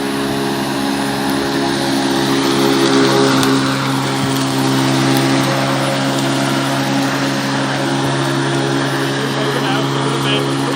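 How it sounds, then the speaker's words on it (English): A lawn mower runs steadily while cutting grass, a continuous droning engine hum at close range that holds level throughout without pauses. "has been practicing using the lawnmower"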